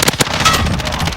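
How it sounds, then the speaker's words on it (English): A flashbang grenade goes off in a team deathmatch shooter game, a loud close burst of rapid crackling pops over about a second. "Flash out!"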